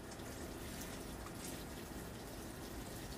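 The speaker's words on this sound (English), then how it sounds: "The only thing left to do at this point, guys, is to actually water it in here." Water pours steadily from a hose or can into sweet potatoes planted in a 10-gallon bucket, a continuous soft splashing gush with no break, heard alone without talk.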